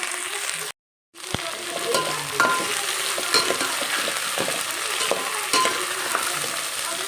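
Vegetables, beans and soya frying in a pan for vegetable pulao: a steady close sizzle broken by repeated spoon scrapes and knocks, after a short silent gap near the start, no talk.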